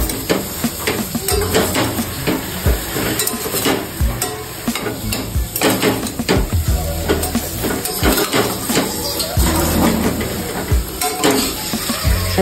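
Cut, washed dried Bombay duck (bombil) fish goes into a hot pan for khichdi cooked over a wood-fired chulha, then gets stirred steadily. A loud, close sizzle runs throughout, broken by frequent scraping and clinking of the utensil against the pan. No voices.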